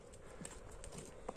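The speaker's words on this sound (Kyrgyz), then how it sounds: "Эми сиз секин ары акырындык менен жетелеп коесуз өзүнүн кадам ташташына" A young racing horse being led at a slow walk, its hooves giving a few faint, soft clip-clops in an outdoor setting, brief and distant-sounding.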